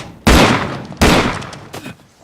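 Two loud gunshots in a tense car confrontation from the film The Devil All The Time, about a second apart, each a sharp blast with a fading tail, followed by a softer third report.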